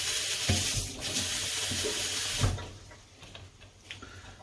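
Water from a tap runs into a pot of seafood chowder, a steady broadband splash for about two and a half seconds that then cuts off, leaving faint kitchen clatter.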